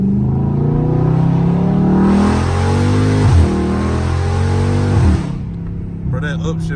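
A loud Dodge Charger Scat Pack pulls hard from inside the cabin, its engine note climbing through two sharp upshifts before easing off, and a voice speaks at the end.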